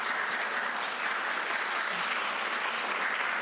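An audience at the close of an evening program applauds for Katrina Jurgill Briddell, a dense, steady wash of clapping from many hands that holds evenly throughout.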